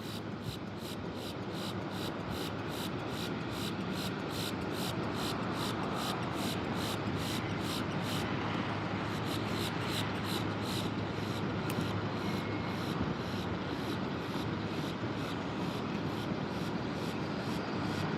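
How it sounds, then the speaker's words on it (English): A Breeze Airways airliner at Tampa International Airport, heard as a steady, loud broadband jet engine roar that holds throughout, with a faint regular ticking over it. "Looks like we might have another Breeze aircraft here."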